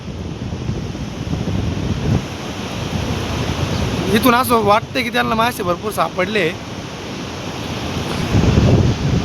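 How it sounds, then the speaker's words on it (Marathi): The Godavari river, swollen after rain in Nashik district, rushes past in a steady broadband wash with wind buffeting the microphone, while someone talks over it midway. "गोदावरी नदीचा आता हळूहळू प्रवाह पण वाढत आहे."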